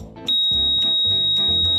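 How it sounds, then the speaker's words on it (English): A HeatWeave TapeMat installation monitor (Loudmouth) sounds a steady high-pitched electronic alarm tone for a cut or damaged heating wire, switching on sharply after a brief quiet moment and holding loud and continuous over a low background rumble. "the loudmouth will sound an audible alarm"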